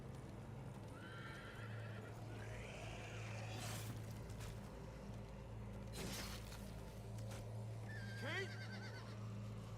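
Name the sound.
horse neighing in The Walking Dead video game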